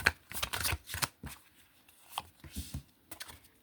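Tarot cards being shuffled close by, a run of quick papery riffles and slaps in uneven bursts, soft and without speech.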